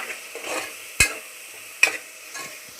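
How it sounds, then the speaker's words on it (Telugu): Black-eyed peas frying with ground coriander and spices in a pan give a steady close sizzle, broken by three sharp spoon clinks against the pan as they are stirred. "బాగా వేగిపోయిందండి మసాలా వేసుకుందాం అలసందలు"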